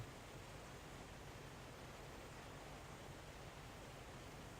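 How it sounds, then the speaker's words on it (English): A waterfall in the video game Satisfactory gives a soft, steady rushing wash of water that stays even and faint throughout, with no other sounds. "oh, it's a waterfall? Nice."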